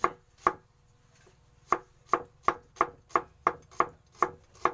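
A knife chops shallots steadily on a cutting board, about a dozen crisp knocks, two early ones then a quickening even rhythm, close and clear.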